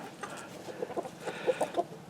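Chickens cluck in a backyard coop on a cold early-winter day, a run of soft, irregular clucks and short calls at close to mid distance, with no talking.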